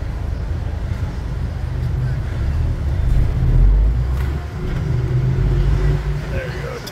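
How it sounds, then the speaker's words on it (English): A tourist bus passes on a downtown Memphis street on a quiet Sunday, heard from inside a car: a heavy, low engine rumble swells and fades over steady road noise. "That's a tourist bus."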